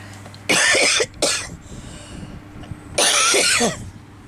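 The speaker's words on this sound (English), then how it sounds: "I'm not coughing as bad as I was." A few harsh, raspy coughs up close: a double burst, a pause with faint breathing, then one longer cough.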